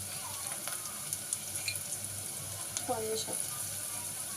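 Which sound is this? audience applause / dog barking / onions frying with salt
onions frying with salt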